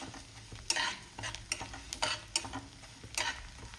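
Gobindobhog rice is stirred and fried in a pan: a low steady sizzle with repeated sharp scraping strokes of a spatula, about one every half second, close and clear.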